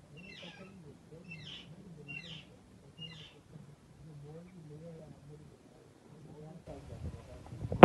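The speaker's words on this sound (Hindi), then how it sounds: "जी कबूतर हैं ये।" Pigeons cooing at a village farm house, a soft low repeated warbling coo running through most of the stretch, with a few higher chirps early on and a louder knock at the end.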